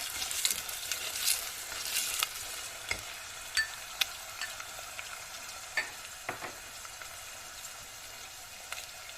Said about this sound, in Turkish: iki diş sarımsak ve kavurarak aromasını çıkaralım